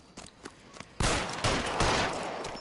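Gunfire in a video game: a few faint distant pops, then a loud close burst of shots with rolling echo lasting over a second.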